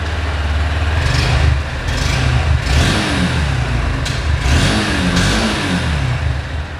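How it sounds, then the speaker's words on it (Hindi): Honda 200cc adventure motorcycle engine running close up, a steady loud exhaust note with several throttle blips rising and falling over the idle. "बहुत ही कड़क इसका एग्जॉस्ट साउंड है"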